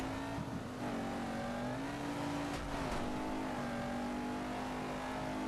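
Rally car drifting through a corner in the racing game Dirt 2: a steady loud engine drone with shifting revs and brief tire scrub, continuous and close throughout.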